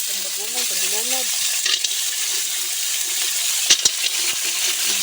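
Bagongon sea snails are tipped into a pan and stirred, giving a steady sizzle with clinking shell knocks and scrapes, close up, while a voice hums briefly at the start.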